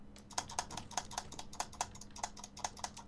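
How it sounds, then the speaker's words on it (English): A computer mouse is spam-clicked rapidly while Minecraft is being played, producing a quick, close, fairly faint series of sharp clicks in an uneven rhythm with no talking. "Oh, I'm spam clicking."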